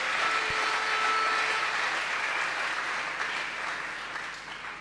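A seminar congregation breaks into sustained, dense applause that fills the room evenly from start to finish, easing slightly toward the end.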